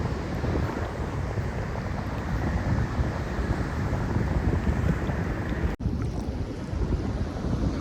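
Steady roar of wind and surf at a sea shore, a dense, constant wash buffeting the microphone with no distinct breaks, loud and close throughout.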